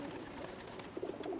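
Pigeons kept at home coo softly. The low, rolling calls are quiet and repeat over a faint background hiss.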